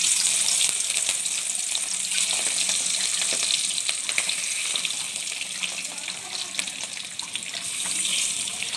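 Rohu fish marinated in salt and turmeric sizzles in hot oil in a wok (kadai), a steady, dense frying hiss that runs unbroken from start to finish with no voices.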